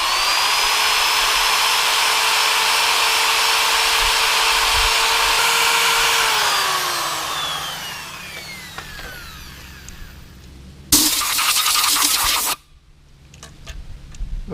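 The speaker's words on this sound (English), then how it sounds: "we get the wire brush going" A power-driven wire brush whines steadily as it scrubs a cast iron cylinder head from a Farmall Super M engine, winding down partway through, then a brief loud burst of scrubbing and quieter rattling follow.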